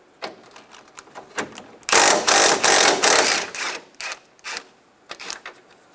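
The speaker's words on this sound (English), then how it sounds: "We're going to grab a 12mm socket and remove this bolt." A 12mm socket ratchet clicks while removing a bolt near the headlight on a 2012-2016 Subaru Impreza, giving short bursts of rapid clicks and a loud, sustained stretch of ratcheting close by, with no talk.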